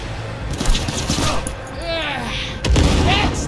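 Gunfire in Cyberpunk 2077 comes as a scattered volley of sharp shots and thuds mixed with chaotic game effects, fairly loud and close, with a heavier burst near the end and a voice talking over it.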